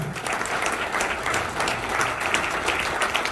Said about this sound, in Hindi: नहीं तो जोरदार तालियां